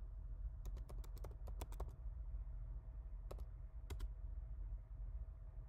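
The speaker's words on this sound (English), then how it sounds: "Start by typing in your username and pressing return." A username is typed on a Mac computer keyboard in quick clusters of crisp, close keystrokes, a burst of about a dozen taps followed by a pause and a few more isolated presses, heard alone over faint room hum.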